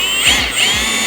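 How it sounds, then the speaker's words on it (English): A power drill bores a hole for mounting a winch on a Kubota RTV X1140 utility vehicle, a short, close, steady high-pitched whine lasting about a second. "You'll just send your drill bit down through that next one."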